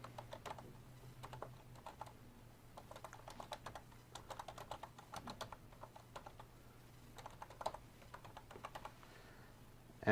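Account details are typed on a computer keyboard in quick, irregular bursts of light key clicks, faint and close, over a low steady hum.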